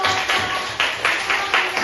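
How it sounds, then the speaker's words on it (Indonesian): A classroom of students clapping for a group that answered correctly, a brief burst of pulsing applause that rises and falls several times in under two seconds. "Sekali lagi kita beri tepuk tangan."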